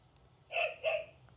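A Dash toy robot plays a recorded dog bark through its small speaker, two quick close barks in succession against a quiet background.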